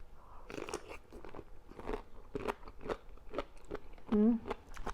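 Someone bites and chews bullet jellyfish that has been soaked in water for several days, giving a string of close, crisp crunches over about five seconds, with a brief louder burst near the end.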